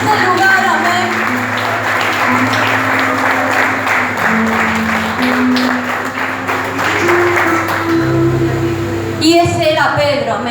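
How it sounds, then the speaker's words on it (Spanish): A church congregation applauds loudly and steadily, the clapping running under sustained keyboard and music chords for about ten seconds before it thins out near the end. "¿Cuántos pueden aplaudirle fuerte al Padre que está en este lugar?"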